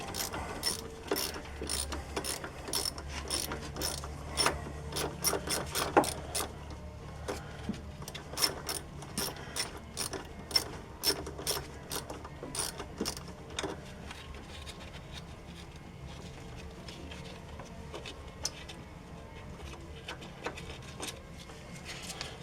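A ratchet wrench works a bolt loose on the brake flex line and ABS sensor bracket of a 2007 Chevrolet Silverado during upper ball-joint replacement, with steady close clicking strokes in bursts that slow and thin toward the end.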